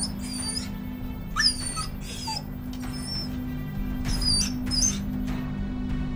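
Several dogs whine and yip in high, thin cries over a constant low electrical hum, the calls coming in short bursts of varying pitch at moderate distance.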